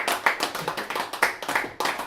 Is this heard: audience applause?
yes